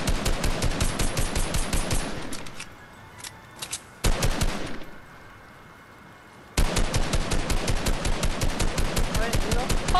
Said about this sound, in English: I'm gonna shoot at this guy.